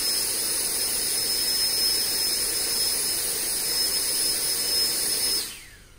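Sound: Sprite electric ducted fan running on load cell test rig

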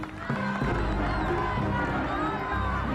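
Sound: audience starting to applaud

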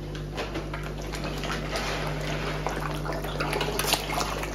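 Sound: koi tank water filter running

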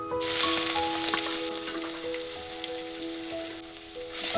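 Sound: bay leaves and grated ginger sizzling in hot oil

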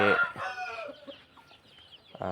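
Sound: fighting rooster clucking on a farm

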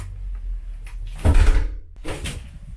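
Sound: door closing and opening

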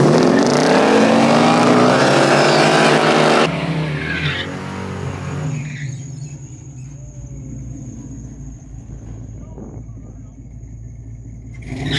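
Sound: 1969 Camaro spinning one tire, tire squeal

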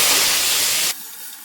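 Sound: prawns frying in hot oil

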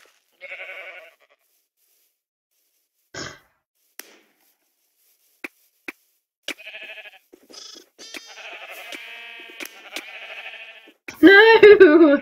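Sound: sheep bleating in Minecraft video game

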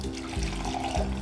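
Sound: pouring lemon ginger tea through a strainer into cup

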